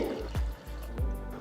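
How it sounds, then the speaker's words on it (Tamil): Water is poured from a cup into a cooking pot while a variety rice dish is being prepared, with two quiet, brief splashing pours over a low background. "இப்போ நான் இதில் 3 கப் தண்ணி சேர்க்குறேன்"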